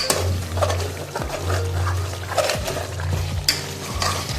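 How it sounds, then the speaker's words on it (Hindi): Masala with onion and meat is stirred and roasted in a pot, giving scraping and clinking of a spoon against metal in uneven strokes over a soft, continuous low cooking bubble. "इसको हम थोड़ा सा भुनाई में लेके आएंगे, भुनाई करेंगे ना इसकी"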